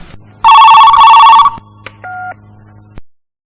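An old-style telephone bell rings loudly in one long burst, followed by a short click and a brief electronic tone before a final knock, alone with no talk.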